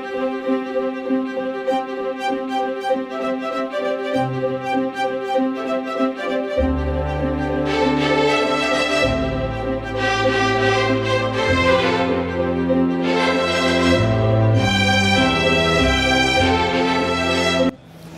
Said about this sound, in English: I'm going to play you the MIDI demo of the same section.